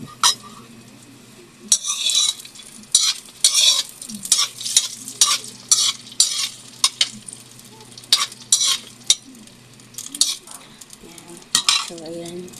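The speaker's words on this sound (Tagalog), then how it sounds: "Niluto ko na itlog para sa almusal." Eggs fry in a pan for breakfast while a utensil stirs and scrapes repeatedly, producing bursts of sizzling with metallic clinks close by.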